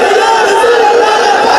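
A large crowd roars a religious slogan in unison, a dense, loud wall of many voices sustained throughout with no pauses.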